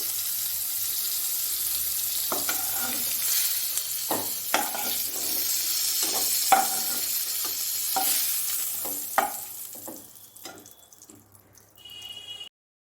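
Hot oil frying in a pan, a bright continuous sizzle close up, broken by several sharp clinks and scrapes of a utensil before the sound cuts off near the end.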